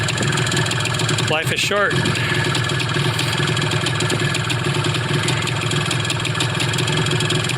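A Honda FL250 Odyssey buggy engine runs at a steady idle after a pull start, a constant loud mechanical drone throughout, with a man's short remark briefly heard over it near the start.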